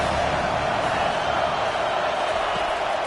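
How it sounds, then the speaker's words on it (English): Loud football stadium crowd roaring during a college game, a dense, steady wall of noise that holds high throughout at close range, swelling on third down with no clear individual voices. "Decibels rising as the crowd gets behind this defense on 3rd down."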